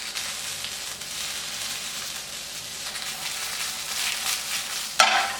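Blistered shishito peppers sizzle steadily in a hot pan with a continuous crackling hiss, rising slightly near the end as the pan is shaken and a brief louder burst of frying follows.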